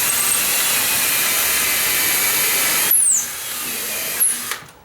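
A power drill drives a screw through a front door hinge into wood, whirring steadily for about three seconds, then briefly winding down and spinning up again in a short final burst before stopping.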